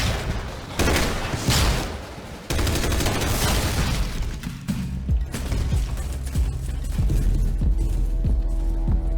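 Bolt guns firing in a Warhammer Astartes battle animation, loud dense bursts of gunfire and heavy booms, then a rapid run of repeated shots over rumbling effects, with no talk.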